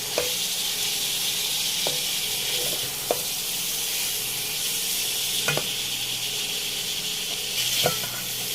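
Boiled, chopped cluster beans (guar) are stirred into sizzling masala, a steady close frying hiss with several sharp scraping knocks of the spoon against the pan, no voices.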